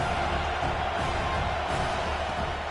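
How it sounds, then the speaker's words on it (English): Stadium crowd noise from a college football video game with Alabama's home crowd on third down: a dense, steady roar of many voices with no breaks, fairly distant in the mix. "The Tide crowd rolling noise down on the Saban field on third down."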